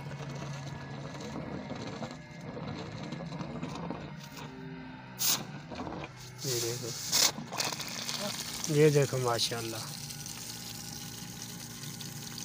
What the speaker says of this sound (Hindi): कितना फास्ट क्लास ज़बरदस्त पानी देखो प्रेशर के साथ ये मोटर चालू का हो गई